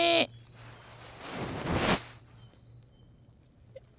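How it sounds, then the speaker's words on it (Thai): A sheep bleats once, short and near, on a walk around a rural Thai village, followed by a stretch of rustling outdoor noise and quiet background. "ถ่ายรูปแกะก่อน"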